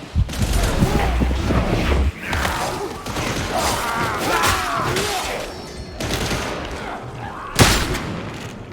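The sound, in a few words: shotgun gunfire in Warhammer 40k Darktide video game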